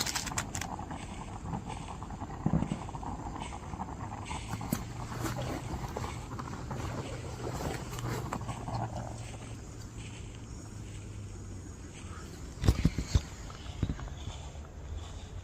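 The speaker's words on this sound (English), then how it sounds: "it sounds like someone's just walking around" Someone walking around outdoors at a campsite, with irregular footfalls, shuffles and crunches over a steady low background rumble and a louder cluster of steps near the end.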